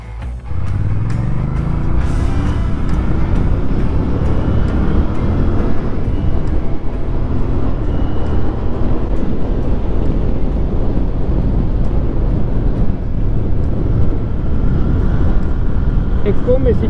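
A Royal Enfield Bear 650 scrambler motorcycle accelerates on the road, its engine note rising and falling through gear changes under steady wind rush, with a rider occasionally speaking over it.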